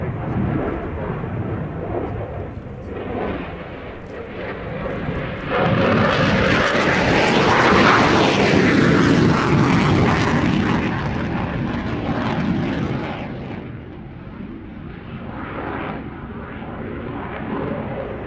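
Roaring MiG-29 jet fighter engine, a Soviet Cold War aircraft in service since 1983, building to a loud broad swell as it passes close midway, then easing to a steady rumble.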